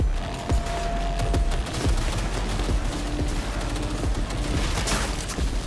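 Rapid bursts of automatic gunfire and sharp shots crack repeatedly in a Cyberpunk 2077 firefight, loud and close, with brief gaps between volleys over a rumbling game background.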